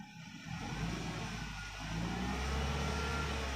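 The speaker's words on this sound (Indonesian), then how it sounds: "Coba kita gas dulu mobil ini." Nissan Latio 1.8 hatchback engine revving with the windows open, a low steady drone that swells slightly as the throttle rises, close and moderately loud with no talking.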